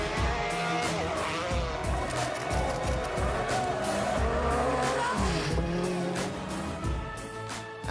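Rally cars such as the Audi Quattro, Lancia Delta S4 and Peugeot 205 racing in the old World Rally Championship era, engines roaring steadily with repeated tire squeals and skids, loud and continuous.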